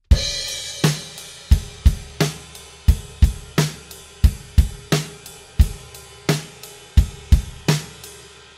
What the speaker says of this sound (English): we're crashing over to ride, okay? It sounds like this.